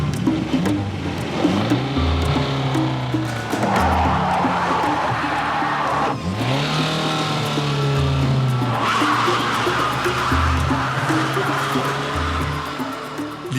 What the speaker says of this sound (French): Nous sommes sur une mauvaise montée, ça patine.